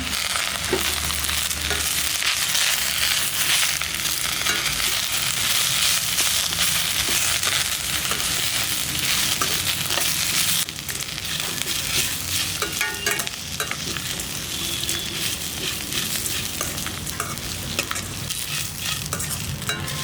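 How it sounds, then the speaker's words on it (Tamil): Moringa leaves sautéing in a pan with onion, chana dal and urad dal, a steady loud sizzle with continuous stirring and scraping, no voices. "நம்ம முருங்கைக்கீரை சேர்த்துட்டு ஒரு ரெண்டு நிமிஷம் பார்த்திங்கன்னா வெங்காயம் கடலப்பருப்பு உளுந்தம்பருப்பு கூட நல்லா வதக்கி விட்டோம்னா"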